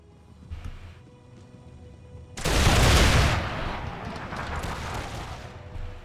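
Massed musket volley from troops firing on cavalry in the Empire II Generals strategy game, a loud crackling burst that swells suddenly and then trails off into lingering rattling shots and battlefield noise.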